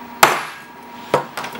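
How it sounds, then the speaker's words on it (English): A Starrett center punch struck with a hammer into cast metal while mounting a mill's coolant mister: two sharp metallic taps about a second apart, then a lighter third tap, close and clear with no talk. "Let's make it slightly deeper with my Sterrett center punch."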